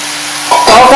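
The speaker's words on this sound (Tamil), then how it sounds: "இப்போ இதில் நம்ம கட் பண்ணி வச்சுருக்க கோவக்காய் போட்டுடலாம்." Sliced ivy gourd (kovakkai) dropped into a hot pan with tomato, a quiet background hum giving way to a sudden loud sizzle within a second.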